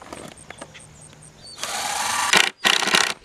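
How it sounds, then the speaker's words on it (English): Cordless drill pre-drilling screw holes in store-bought lumber while building a garden cold frame, a loud broadband whir running about a second after faint clicks, stopping briefly then resuming. "I'm pre-drilling just because I don't wanna split this high quality Lowe's wood"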